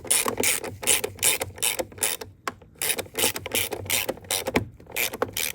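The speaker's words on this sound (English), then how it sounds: "put a ratchet on here" A ratchet clicks in quick, repeated strokes, close and loud, as it tightens a 13 millimeter bolt on the upper torque strut mount of a Buick Enclave, with no talking.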